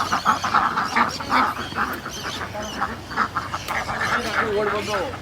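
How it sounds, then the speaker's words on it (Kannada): Khaki Campbell ducks quack repeatedly, close by, with people talking over and between the calls. "ಕಾಯುಗ ಡಕ್ಸ್ ನಿಮಗೆ ಯು ಕೆ ಬ್ರೀಡ್"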